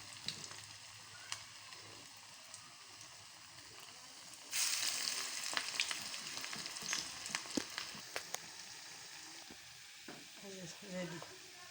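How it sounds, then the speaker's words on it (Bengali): Pointed gourd (potol) leaf fritters drop one by one into hot oil and fry with a steady, close sizzle that swells sharply partway through, with scattered spatters and a few light utensil clicks toward the end. "এবার এক এক করে বড়াগুলোকে তেলের মধ্যে ছেড়ে দেবো।"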